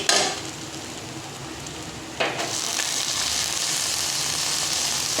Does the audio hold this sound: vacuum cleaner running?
no